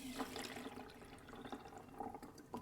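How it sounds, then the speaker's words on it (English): Water drains from the tank of a HAPAW cat water fountain, a steady gurgling trickle with small splashes, close and fairly quiet, with no voices. "press and hold the mode button for 2 seconds and you'll see the water drain"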